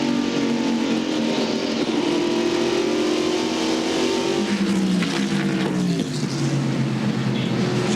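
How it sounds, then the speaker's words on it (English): NASCAR Busch Grand National race cars roar around the Richmond oval at a 1996 race, loud engines droning close by with pitch sweeping down as cars pass and rising again under acceleration, overlapping one another continuously. "Mark Martin jumps back in the throttle, but the car slides up"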